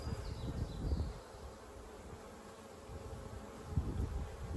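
Honeybees droning around an open hive during a June inspection of fresh white comb, a low steady hum with a few louder swells, faint and unaccompanied by talk.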